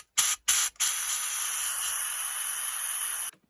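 Compressed air blasts grit out of a freshly run thread in a Smart & Brown lathe saddle: two short hissing bursts, then one long steady close-up blow of about two and a half seconds that cuts off sharply.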